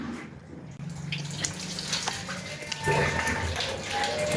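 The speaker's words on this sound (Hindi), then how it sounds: "जल्दी साबुन तुम धो, हाथ धो," Hands are washed with soap under running tap water, producing a steady splashing, gurgling flow at close range with occasional rubbing and small splashes, and a faint voice in the background.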